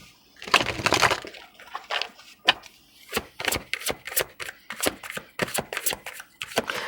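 Tarot cards being riffled and shuffled, a dense crackling flutter at the start, then a run of sharp separate card slaps and snaps as cards are drawn and laid down, close and fairly loud, with no talking.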